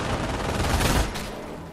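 Dense automatic gunfire from the World War II strategy game Company of Heroes crackles in a loud, continuous burst that fades slightly at the end.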